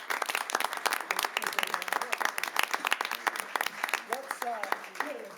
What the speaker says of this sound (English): give Clark a big round of applause